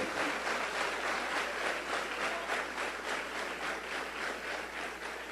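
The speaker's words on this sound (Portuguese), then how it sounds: "Pode aplaudir ao Senhor." A church congregation claps together in steady, sustained applause that fills the room, loud and continuous with no voices over it.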